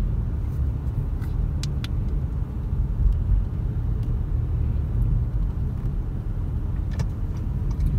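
A car drives along a city street in Queens, New York, giving a steady low road rumble with faint clicks, continuous and fairly close, with no talking.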